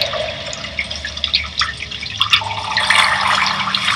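Running water in the Outlast horror game, a steady splashing flow like a tap or drain pipe, continuous and fairly close with some shifting intensity over four seconds, no talk.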